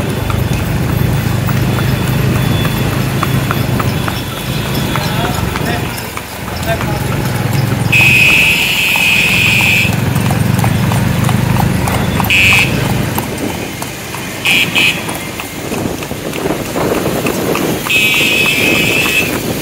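Horse hooves clip-clop at the Anthiyur Gurunatha Samy temple festival, a steady rhythmic clatter under continuous chatter and crowd noise, with intermittent bright tonal beeps cutting in.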